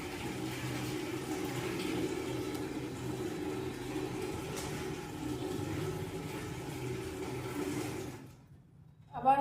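Water from a bucket poured across a room floor during cleaning: a steady rushing splash that runs for several seconds, then stops abruptly, followed by a brief clatter.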